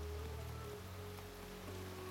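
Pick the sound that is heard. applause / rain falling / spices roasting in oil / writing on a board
rain falling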